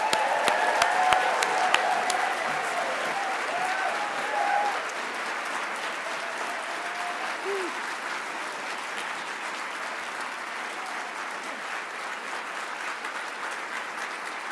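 At a university pre-commencement hooding ceremony for doctoral recipients, a large seated audience breaks into long, steady applause, loud and dense at first with a few scattered cheers, then settling into an even, continuous clapping.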